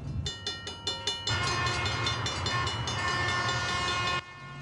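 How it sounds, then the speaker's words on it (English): A train rumbles past close by, with rhythmic clatter at first, then a steady loud roar of rolling cars that cuts off abruptly near the end. "Oh, shoot, there's a train."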